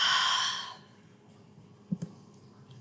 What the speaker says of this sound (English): Deep breathing means using your lungs to breathe in through your nose and out through your mouth.